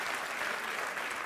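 Studio audience on a Turkish TV talk show breaks into sustained, dense applause, a steady wash of clapping with no break.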